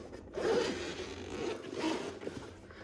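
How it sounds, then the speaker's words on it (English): Close-up zipping of a JSAUX Max carrying case for an Xbox Ally X handheld, with two main rasping pulls and a steady scratchy zip between them. "You can zip it up."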